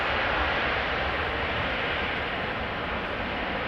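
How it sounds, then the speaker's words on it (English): A jet airliner landing at Amsterdam Schiphol, with reverse thrust still applied near the end of the rollout, gives a steady, broad roar that holds at a constant level throughout, with no voices. "still a little bit of reverse thrust being applied in the end"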